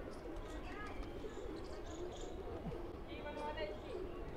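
Pigeons on a rooftop coo softly and faintly amid a quiet, noisy outdoor background, with soft scattered calls across the few seconds and no clear speech.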